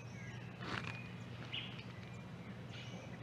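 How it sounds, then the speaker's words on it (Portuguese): Birds singing outdoors in nature, a few faint, scattered chirps rising over a steady ambient background with no talking. "escutando os pássaros,"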